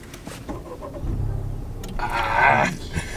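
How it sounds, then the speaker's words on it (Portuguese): Honda Type R engine cranking and catching after a few quiet clicks, then settling into a firm, close idle with a brief rise in revs. "para ligares o carro, pé na embreagem, pé no travão,"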